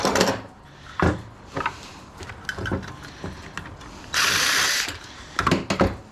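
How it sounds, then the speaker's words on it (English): Bolt cutters work through scrap metal from a radiator, giving loud close metallic clanks and ratcheting snaps, with a sustained harsh hissing grind midway, no talk. "Bolt cutters."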